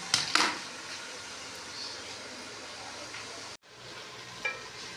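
Onions and okra stir-frying in ghee for bhindi masala, a steady close sizzle with a burst of stirring scrapes at the start, a brief cut, then continued frying hiss and a light clink.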